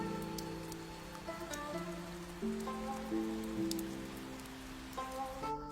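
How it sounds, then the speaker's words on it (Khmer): Heavy rain falls as a steady, soft hiss beneath sustained music notes that change pitch, the downpour staying faint and constant throughout. "ភ្លៀងខ្លាំងយ៉ាងនេះ"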